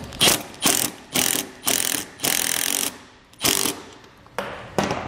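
Bursts of a tool driving a bolt on a van ladder rack on a 2015 Chevrolet Express, about eight short loud rattling pulses in quick succession with brief gaps, close up and without speech.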